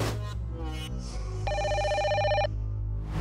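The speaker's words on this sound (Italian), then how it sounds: "Rispondi al telefono!" A telephone rings in a cartoon scene, with a steady electronic ringing tone held for about a second over a background music bed, close and fairly loud.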